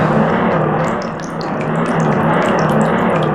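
Strange abnormal water drains away in The Legend of Zelda: Ocarina of Time, a steady loud rushing and gurgling flow with small bubbling splashes throughout.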